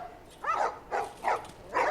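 Dogs in The Last of Us video game bark in a series of four sharp, separate barks, fairly close and distinct against a quiet background.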